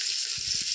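Green chillies sizzle in hot oil in a pan, a steady bright hiss that holds throughout, close and moderately loud.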